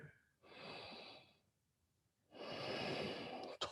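Two slow, audible breaths during a yoga flow moving into downward-facing dog, a soft exhale followed by a longer, fuller breath, close and quiet with no talking.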